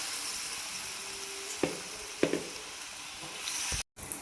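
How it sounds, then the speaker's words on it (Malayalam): Pokkavada batter dropped in small portions into hot oil over a medium flame sizzles and crackles steadily up close, with a few sharper spatters as more batter goes in and a brief cut near the end. "ചൂടായ ഓയിലിലേക്ക് കുറച്ചായിട്ട് ഇട്ട് കൊടുക്കാം"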